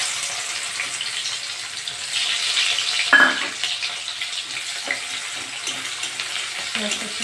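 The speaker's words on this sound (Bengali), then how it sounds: "ওই তেলে আমি একটা বড় পেঁয়াজ কেটে রেখেছি, এটা দিয়ে দেবো।" Chopped onion sizzling in oil left in a wok after prawns were fried, a constant close hiss of moderate loudness with a brief clatter partway through as it is stirred, and no talk over it.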